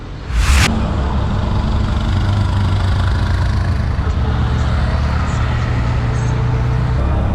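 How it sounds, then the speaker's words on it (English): A tuk-tuk engine runs steadily through a ride in Sri Lanka, a loud, droning low rumble close by, after a brief sharp noise at the start. "I'm going to go there in a tuk-tuk, see the sights, and see what is in the capital of Sri Lanka"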